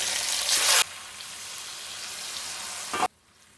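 Potatoes seasoned with salt and turmeric sizzle loudly in hot oil for biryani, a bright frying hiss that drops to a steadier, softer crackle, flares briefly again, then stops.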